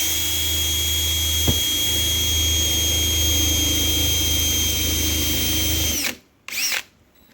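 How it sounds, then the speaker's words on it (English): Cheap drill bits strain through hard metal parts of a Starbucks Verismo K-fee espresso machine, a loud, steady, high-pitched power-drill whine that holds for about six seconds, then cuts out with a short final burst. "having a really hard time drilling through it"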